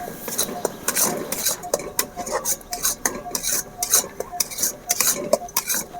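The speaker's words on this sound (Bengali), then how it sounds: "হালকা জালে এভাবে খুন্তির সাহায্যে অনবরত নাড়তে হবে" Ripe mango pulp is stirred nonstop with a metal spatula in a pan over low heat, giving quick rhythmic scraping and clinking strokes close up over a faint simmering hiss.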